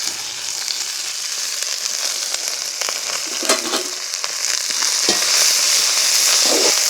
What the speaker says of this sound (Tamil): வெங்காயமும் செத்தலும் அப்படியே நல்லா பொரிஞ்சு ஒன்று வந்துட்டுது